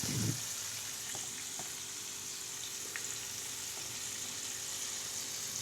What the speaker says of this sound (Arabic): بتشيلي شوية حلوين كده تحطوهم في الدقيق وبتحطوهم في الزيت